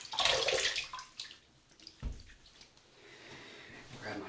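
Tap water running briefly for a rinse during a wet shave, a close splashy gush at the start that fades into quieter trickling and drips.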